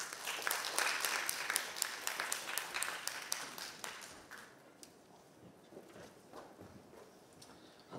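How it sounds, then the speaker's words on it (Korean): Audience applause welcoming eight seminar speakers at an academic festival, with crisp, scattered claps strongest at first, then tapering into sparse, faint claps over a quiet room. "큰 박수로 맞이해 주시기 바랍니다"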